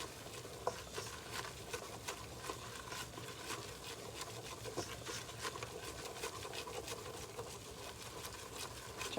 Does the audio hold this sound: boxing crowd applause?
no